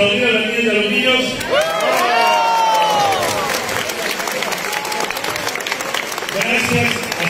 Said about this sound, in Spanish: Vamos a aplaudir a las niñas y a los niños.